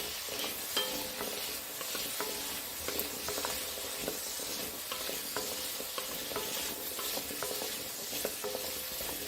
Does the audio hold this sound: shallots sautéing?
yes